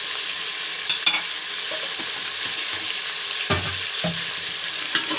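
Ginger garlic paste fries with mutton for aloo gosht, a steady sizzle in the pan broken by occasional scrapes and clinks of a stirring spoon, close and moderately loud with no voices.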